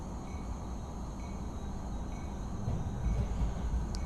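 A train in Train Simulator during a reverse cab ride gives a steady, low, continuous rumble of wheels and running gear that swells slightly toward the end, with no voices over it.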